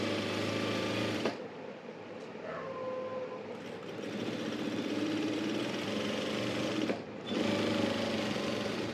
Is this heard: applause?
no